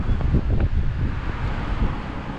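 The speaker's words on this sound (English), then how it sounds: "it's been a pretty windy day on the bike" Steady low rumbling wind buffeting a microphone outdoors while cycling, continuous and fairly loud with no voices.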